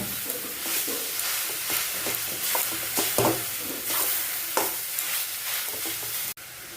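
A utensil stirs vegetables and peanuts frying in a pan for vegetable chop, with steady sizzling broken by scraping strokes and a few sharp knocks against the pan, close and fairly loud.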